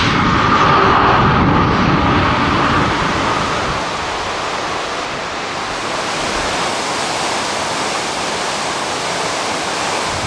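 Dettifoss waterfall in Iceland roars in a loud, dense, unbroken rush of falling water, a broadband wash that eases slightly after the first few seconds.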